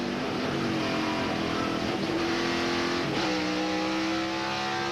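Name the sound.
race car engine accelerating, onboard NASCAR race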